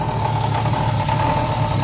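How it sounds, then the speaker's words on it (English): An engine idles steadily and loudly, its low rumble carrying a continuous buzzy rattle from the exhaust rattling against the transmission of a 1989 Jeep XJ, with no pauses. "Yeah, it really just sounds like exhaust farts."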